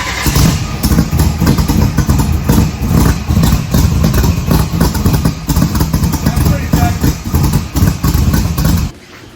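A truck engine running, a loud, close, rough idle with a rhythmic clattering pulse that holds steady for about nine seconds before cutting off abruptly.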